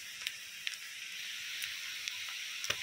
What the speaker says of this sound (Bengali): পেঁয়াজগুলোকে আমি ভালো করে লাল লাল করে ভেজে নেব